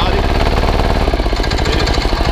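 A BOMAG 230 kg vibratory plate compactor with a Yanmar diesel engine runs loud and close, its rapid rhythmic thumping shifting in pitch midway as the throttle changes.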